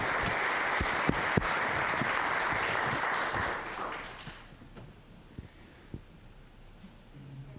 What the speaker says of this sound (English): Let's give Ms. Krieger another round of applause